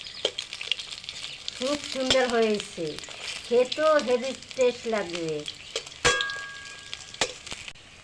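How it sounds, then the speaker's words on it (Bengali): Soybean fritters frying in oil make a soft, steady sizzle in the background while a person talks over it, followed by a few clinks near the end. "সয়াবিনে বড়া ভাজা"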